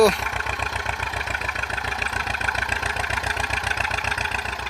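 A three-cylinder tractor engine runs nearby with a loud, steady, rhythmic chugging idle that keeps an even pulse throughout.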